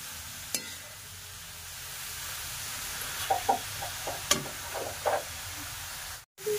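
Grated carrots sauté in ghee for gajar halwa, giving a soft, steady sizzle with occasional scraping and stirring clicks from the pan, close up and with no talking.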